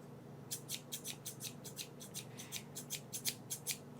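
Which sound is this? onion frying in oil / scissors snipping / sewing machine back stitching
scissors snipping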